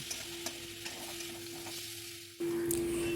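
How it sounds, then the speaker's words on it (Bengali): Spatula stirring an egg mixture with coriander powder, cumin and salt sautéing in a pan, a soft continuous sizzle with light scraping, growing louder and brighter near the end. "এগুলো ভালো করে কষা কষা করে একটু নেড়ে ছেড়ে নেব"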